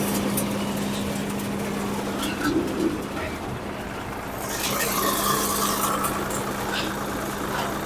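A Bhumi groundnut cleaning and destoning machine runs off a tractor's PTO with a steady mechanical drone and a constant low hum, while people talk over it.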